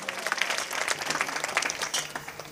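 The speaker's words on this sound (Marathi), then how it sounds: "एकदा यांच्यासाठी जोरदार टाळ्या वाजवा" Applause from a kirtan audience for the meal donors, a dense, steady round of many hands clapping at moderate distance, continuous for a couple of seconds with faint crowd murmur underneath.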